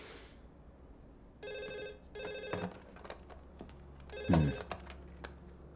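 A telephone bell rings indoors late at night in a Hindi-dubbed film scene, sounding as two clear ringing bursts over a quiet room with a few soft knocks and a brief thump near the end.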